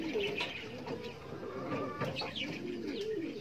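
Pigeons coo softly inside a loft, with repeated low throaty calls overlapping through the moment and a few faint chirps, fairly quiet and close.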